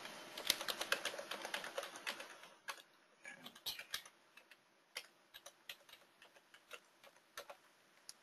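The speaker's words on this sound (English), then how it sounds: "Here, I'll type it in the chat box." Keys clatter on a computer keyboard during a NinjaTrader 7 tutorial, a quick uneven run of close, faint clicks typed into a chat box, thinning out toward the end, with no talking.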